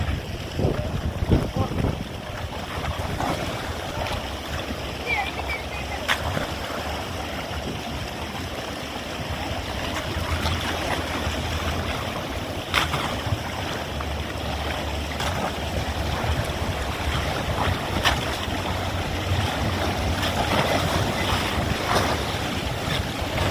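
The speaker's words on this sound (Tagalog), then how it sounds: "lakas ng alon o" Heavy waves keep pounding a small wooden boat at sea off Bicol, a continuous loud rush of water and wind with occasional sharp slaps against the hull throughout.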